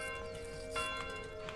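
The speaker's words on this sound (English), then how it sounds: "Who's ringing the bell?" A bell rings in the medieval village-building game Manor Lords, with sustained metallic tones ringing steadily under the game's ambient bed, neither loud nor close.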